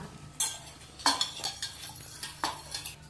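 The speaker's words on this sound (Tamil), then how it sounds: "இப்போ தாழ்ச்சி தயிர் நல்லா கலக்கிடலாம்" A spoon works curd into cooked rice for curd rice in a metal vessel, giving a handful of distinct clinks and scrapes at uneven intervals against a quiet background with no talking.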